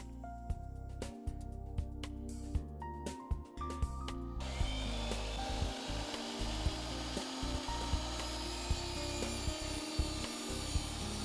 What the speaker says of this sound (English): Set your saw to this angle and miter a molding